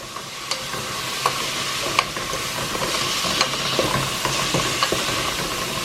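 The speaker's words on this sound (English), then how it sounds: "Give it a nice stir." Shredded cabbage frying in oil in a pan is stirred, with a steady loud sizzle and scattered light scrapes and clicks of the utensil throughout.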